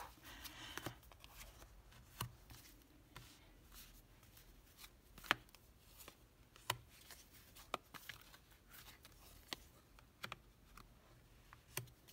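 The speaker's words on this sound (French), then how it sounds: "je vais poser les 10 cartes pour notre croix celtique" Ten tarot cards laid out one by one for a Celtic cross spread, giving soft papery snaps and taps at irregular intervals, close and quiet with no talking.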